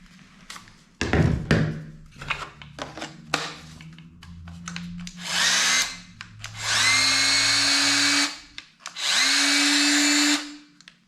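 A Bosch GKS 12V-26 cordless circular saw, fitted with a weak battery, spins up in three bursts of whining motor noise, each ramping up and then cutting off, with clicks and handling knocks between them.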